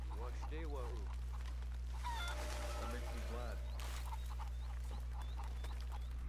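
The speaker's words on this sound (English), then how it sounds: "Java chicken." A Java chicken clucks in Red Dead Redemption 2, a string of short, choppy clucks over a constant low in-game hum, with a voice speaking briefly at the start.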